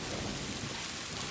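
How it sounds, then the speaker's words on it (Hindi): Cartoon thunderstorm in a jungle, with a continuous heavy downpour and rumbling thunder filling the whole stretch at steady loudness, no voices. "आसमान में बादल गरजने लगे और थोड़ी ही देर में जोरदार बारिश शुरू हो गई"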